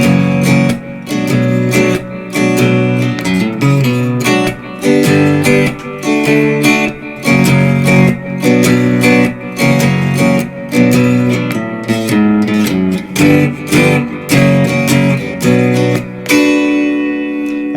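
Blues guitar jam on a Saint James Infirmary progression, strummed chords ending in a turnaround with a descending bass line, loud and steady, then a final ringing chord.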